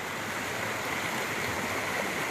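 Stream water pouring into the Huai Sai reservoir, a dense, steady rushing wash that stays loud and unbroken with no talk over it.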